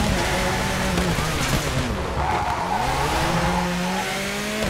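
Rally car on tarmac in WRC4 at Rally France, engine roaring loudly as the tyres squeal and skid through a handbrake turn, revs rising and dipping steadily throughout.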